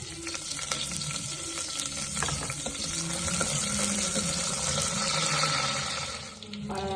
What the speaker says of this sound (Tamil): கடுகு வெந்தயம் கருவேப்பிலை எல்லாம் நல்லா பொறிஞ்சிருச்சு